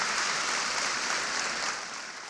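Sustained audience applause at a National Urban League event honoring Michael Neidorff, a dense steady wash of clapping filling the room without pause, fairly loud throughout.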